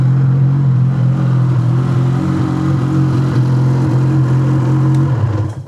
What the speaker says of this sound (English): it idles a lot better now